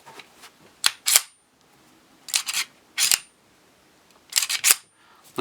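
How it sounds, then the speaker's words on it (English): The slide of a 1911 pistol is racked several times, each a pair of sharp metallic clacks close by, separated by quiet pauses. "I'm going to kind of rack these slides and give you a little pause of silence so you can listen to how different it sounds."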